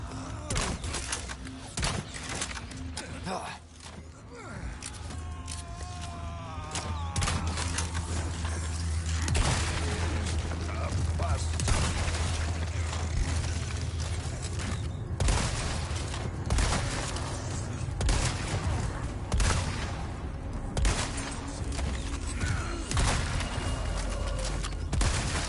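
Gunfire in the Resident Evil 4 Remake, with repeated sharp shots cracking at irregular intervals over a busy, continuous game soundscape that holds rumbling and mechanical noises.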